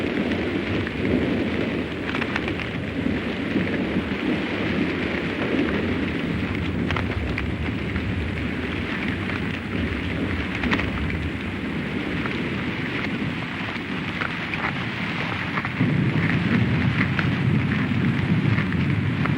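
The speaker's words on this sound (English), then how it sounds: "But even the lions are unnerved by the fierceness of this storm." Heavy downpour drums steadily through an African night storm, with low rolling thunder rumbling beneath the dense rain noise; wind gusts swell the roar louder near the end, no voices present.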